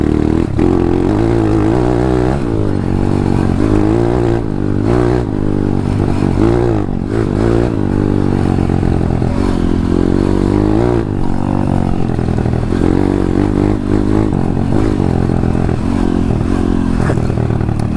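A 150 RXF dirt bike climbs a field slope with its engine revving and labouring, its pitch shifting as it works uphill, loud and close for the whole stretch, with clattering chassis and scraping noises over it.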